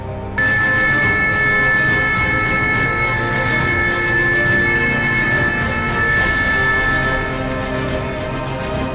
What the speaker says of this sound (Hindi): ये तो हुई आपात सायरन बजने की स्थिति दिन की।